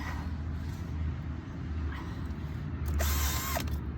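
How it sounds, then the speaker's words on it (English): A power drill whirs steadily with a grinding, churning texture as it mixes compost into soil in a planting hole, rising into a louder burst near the end. "Use the drill to give it a bit of a mix again."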